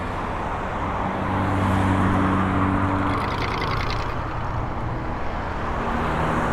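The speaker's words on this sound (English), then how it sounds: "I'll let that City of Toronto truck turn." A City of Toronto truck turns through busy street traffic on a Toronto road, a steady, fairly loud engine and road rumble with a brief whirring swell partway through. No one speaks.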